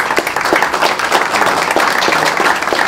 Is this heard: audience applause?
yes